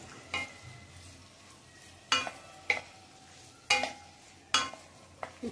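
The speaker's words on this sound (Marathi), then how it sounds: "हे सगळं आपण थोडं बटरमध्ये फ्राय करून घेऊया" Mixed vegetables with onion and cauliflower fry in butter in a pan, a soft steady sizzle punctuated by several sharp scraping stirs of a spoon, close and clear with no talking.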